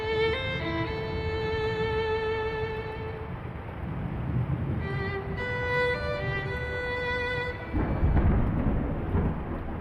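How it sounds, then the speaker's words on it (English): Thunderstorm in the video game The Lion's Song, a low rolling rumble with steady rain running beneath sustained musical tones, swelling louder near the end. "What about that storm? Still here, too."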